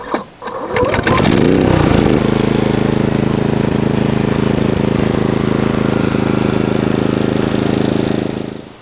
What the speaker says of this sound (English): our second go with the generator went very, very smooth